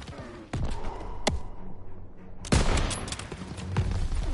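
Bursts of gunfire from a World War II shooter game hit ammo boxes: a sharp shot, a short lull, then a denser, louder volley of rapid shots, close and forceful.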